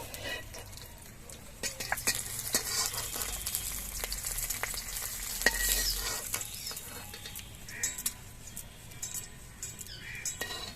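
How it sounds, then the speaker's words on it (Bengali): A hilsa fish head frying in oil, with a soft sizzle beneath intermittent clinks and scrapes of a utensil against the pan, fairly quiet and close throughout. "মাছের মুড়োটা ভাজা হয়ে গেছে, তুলে নেব।"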